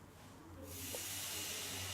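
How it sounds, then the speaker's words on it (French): Tartare flambéed right in the pan in a restaurant kitchen: a sudden broad whoosh of flame and hiss rises after a quiet start and holds steady and loud to the end. "à même la poêle, on va pouvoir faire le flambage"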